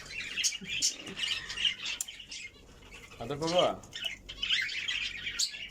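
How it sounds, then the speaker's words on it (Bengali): Many pet birds, including cockatiels, lovebirds, budgerigars, diamond doves and turtle doves, chirp and tweet busily nearby in bursts, with a brief squawk and wing flutter, while a person speaks softly among them. "এখানে অনেক পাখি আছে"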